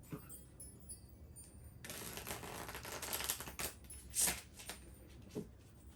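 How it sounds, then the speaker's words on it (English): Tarot cards being shuffled close by, a soft riffling rush followed by uneven papery flicks and snaps, with no talking. "Having some difficulty shuffling today."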